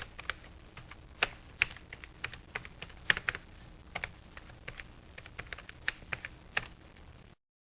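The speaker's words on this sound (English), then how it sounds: "all you have to do is hit your backspace key, and of course it backspaces over what you just typed" Keys clatter on a computer keyboard while typing in Word 97, close and fairly quiet, with irregular bursts of keystrokes and a few sharper taps, no voice over them.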